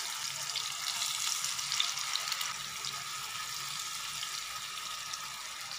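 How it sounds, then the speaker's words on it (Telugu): Fish pieces fry in hot oil in a home kitchen pan, giving a steady, continuous sizzle with fine crackling that holds at an even level throughout, close and alone without voices. "ఇప్పుడు మనం ఈ చేప ముక్కలన్నిటిని ఈ ఆయిల్ లో వేసేసుకుందాం"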